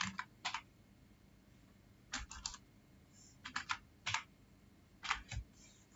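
Short bursts of computer keyboard typing in a Chrome browser search, several quick clusters of clicky keystrokes with pauses between them, close and fairly quiet with no voices.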